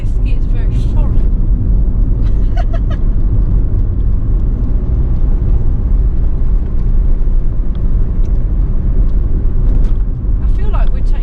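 Rover 45 car cruising in fifth gear on a bumpy road, a steady low engine and road rumble filling the cabin throughout, with a voice talking over it at times.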